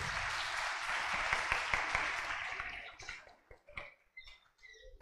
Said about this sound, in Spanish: Fuertes palmas, queridos hermanos.